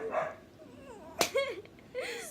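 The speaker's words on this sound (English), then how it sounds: "Stop making him bark!" A dog lets out a few short yips and whiny barks at moderate volume indoors, mixed with a sharp slap-like hit and bits of people's voices.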